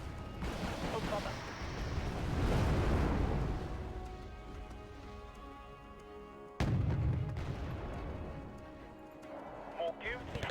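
Artillery shelling from an S-90 self-propelled gun in the Wargame: Red Dragon strategy game, heavy low rumbling booms rolling under steady background noise, with a sharp loud impact near the middle and faint talk mixed in.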